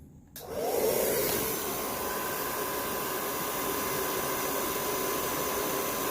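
A hot-air styling tool blows on a beard to heat and set a curl, starting after a brief quiet moment as a loud, steady whooshing roar that holds evenly throughout, with no talking.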